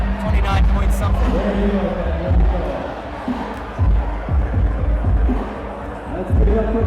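A loud, roaring crowd cheering and shouting at a USA Climbing competition, a dense wall of voices with repeated swells and whoops, while an announcer talks over the noise.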